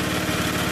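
A small 8hp Briggs engine, freshly repaired, runs steadily just after a cold start, a close, loud, even putter with a fast regular firing rhythm and no voices.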